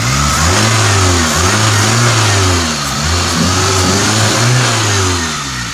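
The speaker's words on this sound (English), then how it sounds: "car's idling really smoothly" A Toyota Celica's warmed-up engine idles steadily and loudly close by, a smooth continuous rumble with a slight swell partway through.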